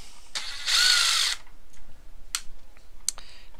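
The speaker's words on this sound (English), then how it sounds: "what we're going to do is remove this IR board, which is held in seemingly by four Torx bolts." An electric screwdriver backs Torx screws out of an Xbox One S IR board: a short whirring burst, then small clicks and taps, close and fairly quiet.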